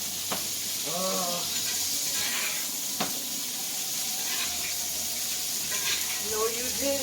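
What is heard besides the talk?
steak sizzling in pan, basted with butter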